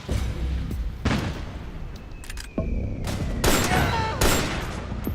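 Bursts of gunfire from the video game Metal Gear Solid 4: several loud volleys of rapid shots and booms in an uneven rhythm, with brief quieter gaps between them.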